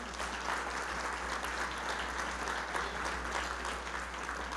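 A church congregation claps together in a sustained burst of applause, dense and even throughout, with a low hum underneath.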